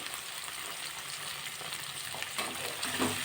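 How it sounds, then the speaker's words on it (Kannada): Onion and tomato sautéing with turmeric in a pan for hotel-style mandakki usli, a steady close sizzle and frying hiss with a few stirring scrapes toward the end, no talking. "ಹಾಕ್ಬಿಟ್ಟು ಚೆನ್ನಾಗಿ ಈ ಥರ ಬಾಡಿಸ್ಕೊಳ್ಳೋಣ"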